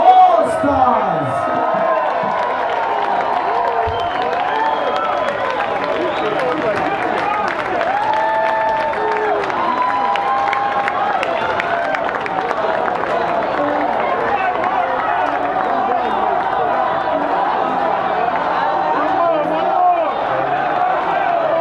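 Jazz festival crowd applauding and cheering for a band, sustained loud clapping with whoops filling the whole stretch, a voice audible over it at the start.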